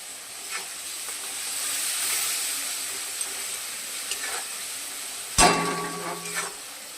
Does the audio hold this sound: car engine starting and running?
no